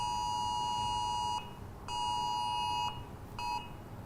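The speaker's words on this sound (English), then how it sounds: "You can hear the alarms going off here." A tornado warning alert alarm gives three bursts of steady, piercing electronic beeping, two long and one short, with short gaps between them, loud and close over a low background rumble.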